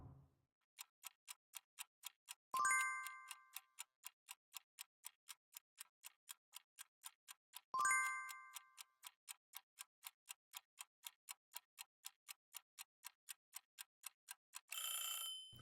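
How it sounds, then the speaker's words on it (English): A test timer clock ticks steadily in a quiet room, crisp, evenly spaced clicks running throughout, broken twice by short ringing chimes and ending in a brief burst of alarm-like noise. "I'll set a timer for you to solve it."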